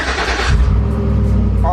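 Waste truck engine cranking and catching, then settling into a loud, steady rumble close by, with a brief higher whine near the end; a voice is heard over it early on.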